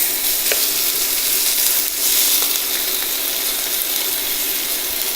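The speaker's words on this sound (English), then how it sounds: "I'm going to saute the onions for about 5 to 8 minutes till they're translucent and brown" Thinly sliced onions sauté in a hot pan with whole spices, giving a steady, dense sizzle throughout, with a few faint clicks of stirring and no talk.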